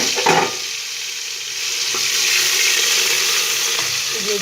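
Garlic and ginger paste hits hot oil for a bottle gourd curry, giving a loud, continuous hiss and crackle that swells after a brief stir, close up with no talking.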